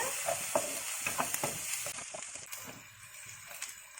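Sliced onions fry in a pan for a Malaysian fish floss dish, giving a steady close sizzle with scattered crackles and soft stirring scrapes that fade slightly toward the end.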